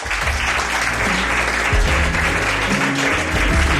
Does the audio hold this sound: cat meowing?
no